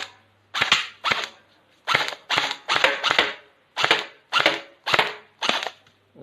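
A gun fired semi-automatically, eleven sharp loud cracks in an uneven rhythm of singles and quick pairs over about six seconds, each with a short ringing tail.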